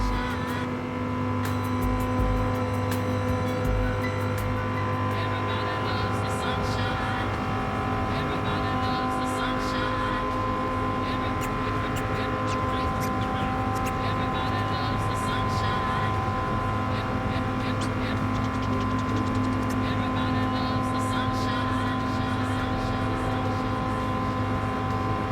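Race cars drag racing in Gran Turismo 7 give a steady, loud, droning engine roar that holds nearly constant, with a high whine layered over it and no clear gear changes or pass-bys.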